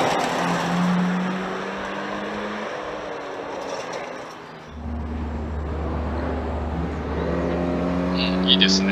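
A rally car charges through a TGR Rally Shibukawa stage at Ikaho, its engine note rising and holding under acceleration, then dropping and building again, with commentators talking throughout.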